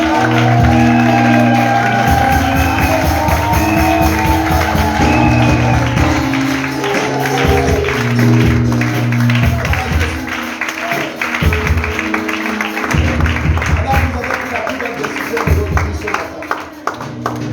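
A church congregation applauds and cheers loudly and continuously, with shouts and whoops rising over steady clapping, while music plays underneath throughout.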